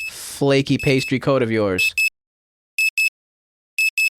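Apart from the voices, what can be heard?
alarm going off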